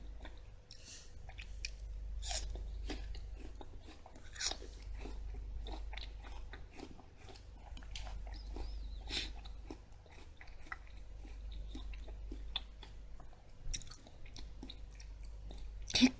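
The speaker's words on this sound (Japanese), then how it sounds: "結構日が経ってるからか、こう、ザクっていう歯ごたえよりはシャリシャリ系になっちゃってますね。" Someone bites and chews thin slices of an older, less crisp apple, close-up crunching that repeats in soft irregular bites over a quiet room.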